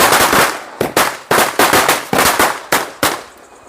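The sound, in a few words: red Murga brand firecrackers exploding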